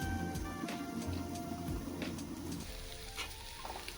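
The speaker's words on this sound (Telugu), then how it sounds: "ఆ మసాలా అంతా ఫ్రై అయిన తర్వాత కరివేపాకు, కొత్తిమీర కూడా వేసేసి బాగా ఫ్రై చేసుకుంటే" Masala with curry leaves and coriander frying in a pan for a crab fry, a close, continuous low sizzle and bubbling with light stirring scrapes.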